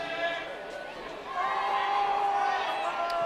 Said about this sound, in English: Crowd calling for breadsticks.